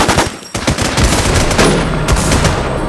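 Rapid automatic gunfire in the survival shooter The War Z, with dense overlapping bursts of shots that continue loud and close for the full stretch, with no talking over them.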